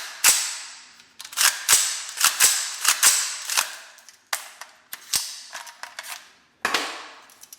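An AR-15 rifle fitted with a Colt bolt carrier fires a long string of sharp, loud shots at close range, some spaced and some in quick bursts, each cracking report ringing briefly before the next.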